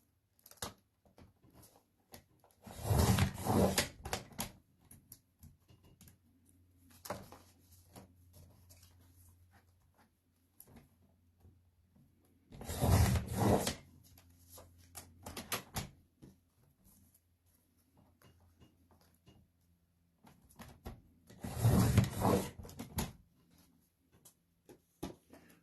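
Scissors trimming a foiled paper piece for a classic white Christmas card, heard as three separate bursts of close, crisp cutting a few seconds apart with quiet handling noise between them.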